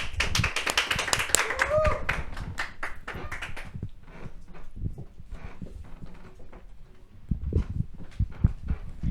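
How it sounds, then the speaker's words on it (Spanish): Audience applause at a talk-show style event, a loud burst of clapping that thins out within a few seconds into scattered claps, with a voice briefly speaking over it. "La recibimos con un fuerte aplauso."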